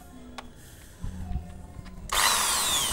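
A Bosch GSB 550 impact drill bores into an old, very hard concrete wall: faint handling clicks, then the drill bursts on loud and close, grinding steadily to the end.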